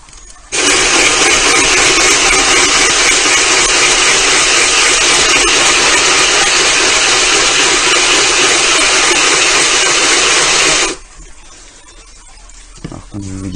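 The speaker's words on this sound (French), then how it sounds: "je vous montrerai tout à l'heure comment percer avec ces petits forêts" A small diamond drill bit bores into glass with a loud, steady, continuous whine and rush lasting about ten seconds, then cuts off abruptly, leaving quiet handling sounds.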